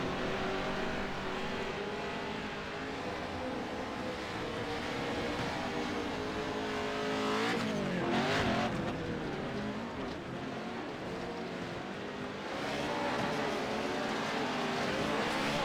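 Race cars and trucks roar continuously in an iRacing sim race, engines droning and shifting pitch as they run close together, with a swelling pass mid-way and no talk.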